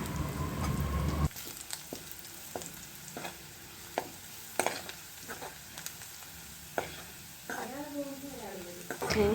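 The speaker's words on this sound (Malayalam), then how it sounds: "മഞ്ഞൾപ്പൊടി ഉള്ളിയുമായി ചേരുന്നത് വരെ നന്നായി ഇളക്കി കൊടുക്കുക" Sliced onions with turmeric powder being stirred in a pan, a soft sizzle broken by repeated scrapes and taps of a spoon against the metal, close and fairly quiet.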